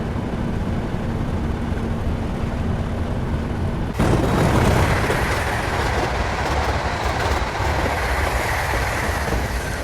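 Steady rumbling train ride in Train Simulator 2021 with rhythmic clickety-clack of wheels over rail joints, growing louder and brighter partway through, no talking.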